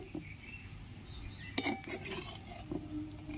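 Egg pulao with garam masala stirred in a pot, quiet scraping with a sharp metallic clink of spoon against the pot partway through, and faint clatter around it.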